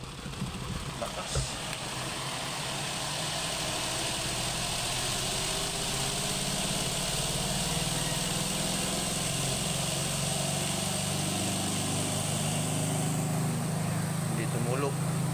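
A Panasonic clothes dryer, plugged in and started, hums with a steady mid-pitched motor drone and a faint rattle that settles into a constant whir. A brief click comes near the start, and the hum later rises slightly in tone.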